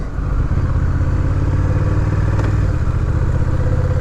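A 2022 Honda CMX 1100 Rebel DCT motorcycle rides along with a loud, close engine drone and gear-change pulses, running steadily without any talking.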